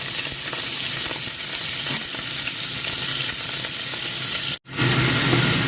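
Minced pork stir-frying in a pan as spring roll filling is cooked, giving a steady, close, crackling sizzle with soft stirring scrapes throughout and one brief dropout near the end.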